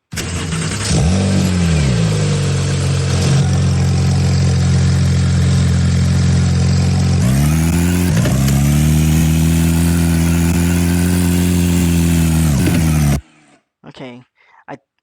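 Synthesized car engine sound from a game in development, a continuous loud engine drone with a rising rev near the start and a shift in tone midway, cutting off abruptly into a few brief sparse sounds.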